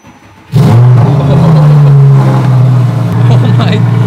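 An exotic sports car engine fires up abruptly and loudly, settling into a deep, strong roar with a throaty rev toward the end, heard up close.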